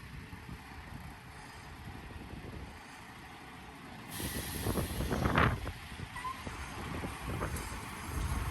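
British Army EPLS truck rolling forward after its handbrake is released, a faint engine rumble joined by a sudden hiss of air and a louder mechanical surge, with a brief sharp release of air partway through.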